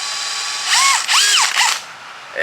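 A power drill bores holes into a camphor wood surface lure in three short, close, loud whining bursts, each rising and falling in pitch over a steady background hum, with no voices.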